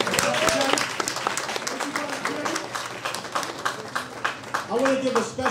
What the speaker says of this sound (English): Another round of applause for Mr. Morrison.